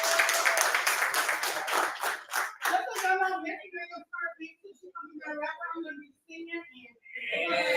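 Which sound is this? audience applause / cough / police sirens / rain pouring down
audience applause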